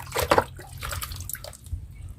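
A homemade liquid termite repellent is poured onto termites, giving brief splashing and dripping close by that trails off within a couple of seconds.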